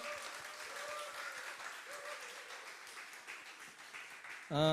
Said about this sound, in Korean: 우리 또 한번 박수 쳐줍시다